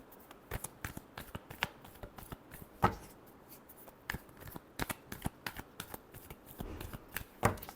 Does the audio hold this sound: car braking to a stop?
no